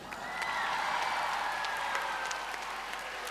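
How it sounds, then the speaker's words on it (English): Dense crowd applause fills a hall after the winner of a junior World Scholar's Cup debate is announced, loud and steady throughout, then easing slightly toward the end. "a big round of applause to all the speakers in the panel"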